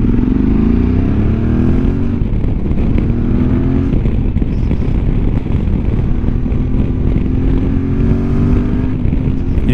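A 2025 QJMotor SRT 600 Touring motorcycle engine revving hard and running at high speed, a loud close drone with rising pitch sweeps through gear changes, steady and uninterrupted for nearly ten seconds.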